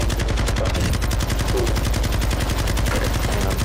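Rapid automatic gunfire from a DMZ shooter match, aimed at a falling supply drop, continuous loud bursts of shots hammering steadily for the whole stretch.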